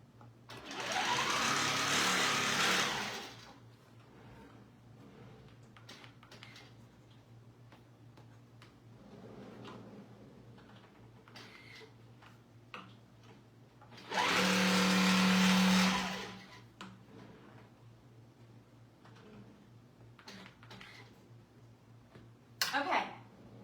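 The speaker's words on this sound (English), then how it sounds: "I'm going to sew up the sides of my quilt" Sewing machine stitches up the sides of a quilt in two loud, steady whirring bursts of a few seconds each, with quieter ticking, handling noises and a steady background hum between them.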